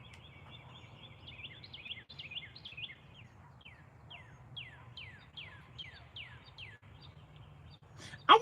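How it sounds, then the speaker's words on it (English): Birds singing outdoors, a series of clear descending chirps repeating every half second or so over a low steady hum, with a sudden loud knock at the very end. "to have like listen to the birds"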